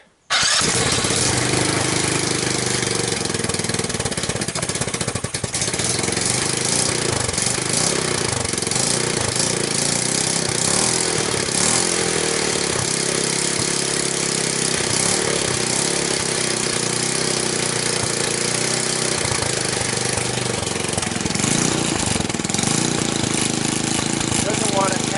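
A 150cc X-treme ATV, a cheap junk machine being revived, starts and runs loudly and continuously up close for the whole stretch, its rough mid-pitched engine note sputtering and surging without settling into a steady idle.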